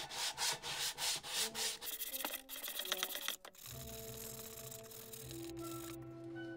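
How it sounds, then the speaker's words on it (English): A hand sanding block scrubs a cracked vinyl car dashboard in quick back-and-forth strokes for a few seconds, then gives way to a steady, even mechanical hum. "little faster and helps me sand all the contours"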